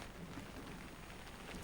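Rain falls steadily outdoors on a long unassisted walking expedition from Port Augusta to Burketown, a continuous soft broadband patter with no voices.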